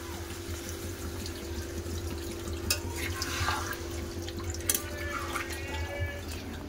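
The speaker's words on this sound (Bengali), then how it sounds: "এবার জল দিয়ে দেবো।" Water pours into a pot of chicken curry in a home kitchen, a steady low trickle and splash with a few brighter drips and clinks, fairly quiet against a constant background hum.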